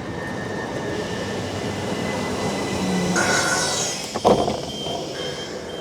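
A passenger train pulls away from Godstone station, a steady low rumble of wheels and motors heard from on board, swelling slightly with a brief clatter and squeal partway through, no voices.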